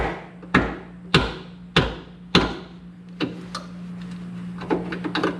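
An adjustable plumber's wrench works on a thrust arm bolt of a Mercedes W211, giving a series of sharp metallic knocks and clanks, about four strong strikes, then lighter scattered taps, close by with no voices.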